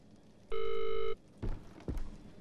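A telephone rings once in the horror video game Visage, a single loud electronic ring lasting about half a second, followed by a couple of dull thumps in a quiet, murky room ambience.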